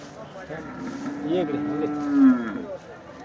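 A Jersey cow at a busy livestock market in Sangola lets out a single drawn-out moo close by, rising and swelling before fading, over a background of crowd murmur and talk.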